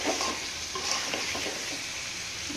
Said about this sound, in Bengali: এখন এটা সুন্দর করে আরেকটু ভেজে নেবে